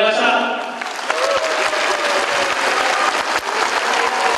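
An arena audience claps, dense and sustained applause at a loud, steady level all the way through, with a voice faintly over it at the start.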